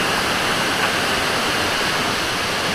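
Bigaho Falls in Palawan roars as a dense, unbroken wash of falling water, loud and close, with no voices over it.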